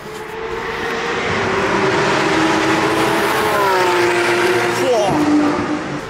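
Loud, sustained engine roar of race cars, including a Ferrari, passing on a circuit, with pitch sweeping as they go by, and a voice talking over it.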